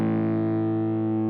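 Distorted electric guitar chord from a 1981 Gamma guitar played on the neck pickup with the tone controls rolled down, a thick sustained chord ringing steadily and decaying slightly, loud and close with no talk.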